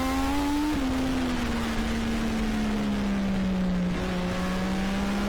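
A race car on the Nogaro circuit, its engine a loud, steady onboard drone heard close up, with the pitch sliding gently lower over several seconds and no voices.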